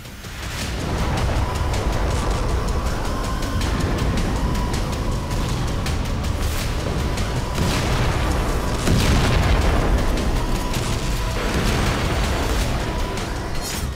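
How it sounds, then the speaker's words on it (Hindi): Repeated heavy booms and blasts of war explosions in Ukraine, some close and loud, rolling over a constant rumble of distant explosions. "पर यूक्रेन में धमाके नहीं रुके।"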